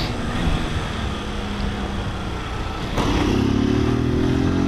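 A delivery motorcycle rides through the south zone of São Paulo, its engine droning steadily and close, then rising in pitch as it accelerates partway through amid street noise.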